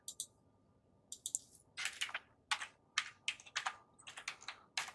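Someone types on a computer keyboard in close, crisp clicking clusters with short pauses between bursts. The room is otherwise quiet and no one speaks.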